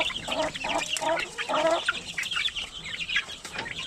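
Chickens and young chicks on a Filipino poultry farm selling chicks, clucking and peeping in a steady, busy chorus of short overlapping calls close by, with no talking.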